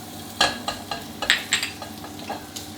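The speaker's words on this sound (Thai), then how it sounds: "แล้วมาผัดกับน้ำมันเล็กน้อยครับ" A spatula scrapes and stirs minced garlic in a hot pan, a run of irregular strokes over a soft, steady sizzle of a little oil.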